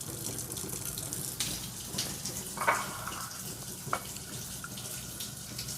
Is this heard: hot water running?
yes